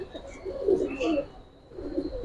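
A Giribaz pigeon cock coos in low, rolling bursts as it circles a hen, two or three throaty phrases close by with a faint steady hum behind.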